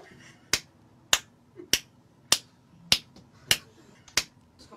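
Seven sharp, evenly spaced single claps ring out alone in a clapping elevator, each a crisp close hand-clap to select a floor, with quiet room tone between them.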